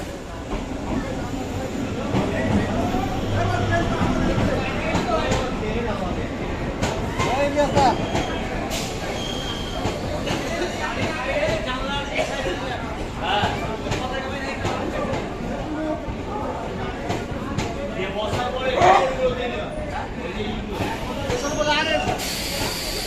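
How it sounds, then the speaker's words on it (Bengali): Lalgola–Sealdah MEMU passenger train arriving at a station, a continuous rumble and hiss of the approaching train with station noise and people talking throughout. "হ্যাঁ দেখতে পাচ্ছেন আমাদের train Lalgola Sealdah memo passenger চলে এসছে"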